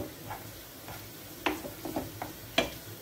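Chopped garlic sizzles in hot fat in a pan for a bolognese, a soft steady hiss broken by several sharp taps and clicks of stirring, close and fairly quiet.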